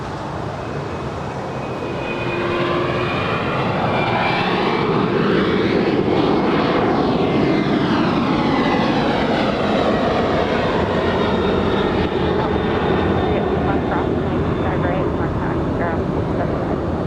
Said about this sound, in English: This is the UPS 767 heading to Louisville, Kentucky. Rolling down 25 right.